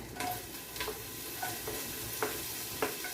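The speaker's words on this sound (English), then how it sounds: "so I'm just gonna saute some onions here" Onions sautéing in oil in a pan, a soft, steady sizzle with regular spatula scrapes and stirs every half second or so, fairly quiet and with no talking.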